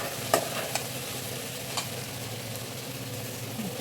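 Okra (bhindi) sabzi cooks in a pan with a soft, steady sizzle, broken by a few faint scrapes of a spoon stirring the vegetables; quiet and continuous with no talking.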